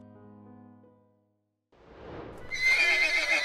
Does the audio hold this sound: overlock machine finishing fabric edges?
no